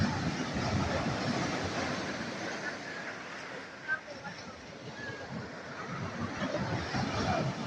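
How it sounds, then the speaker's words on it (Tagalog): Big surf keeps crashing after Typhoon Enteng, a continuous broad roar of waves with wind buffeting the microphone and a voice faintly under it. "Naglalakihan pa rin ng alon."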